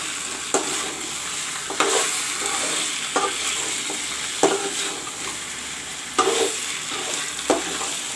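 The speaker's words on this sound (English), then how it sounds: "Now I will let the masala fry along with the mutton." Masala frying with mutton in a pan for a mutton curry: a steady close sizzle with repeated sharp scrapes and clacks of a spoon stirring against the pan, roughly every second or two, no voices.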